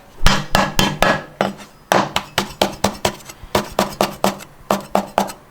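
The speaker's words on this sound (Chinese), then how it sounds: "姜剁成颗颗就是了哈" Rapid, rhythmic chopping of ginger with a cleaver on a cutting board, sharp knocks in quick runs with one short pause.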